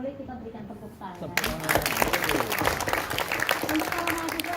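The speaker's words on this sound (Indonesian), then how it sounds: "Biar tidak terlalu tegang, Bapak dan Ibu, boleh kita berikan tepuk tangan." An audience at an International Anti-Narcotics Day event breaks into sustained applause, dense clapping that swells quickly after a presenter's voice and keeps going to the end.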